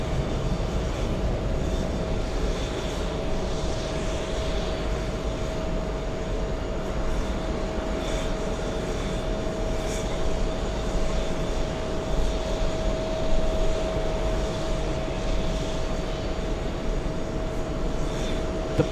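Delta Airlines Airbus A330 taxiing to the runway for takeoff, a steady distant jet engine rumble with a constant whine, heard through ambient airport noise.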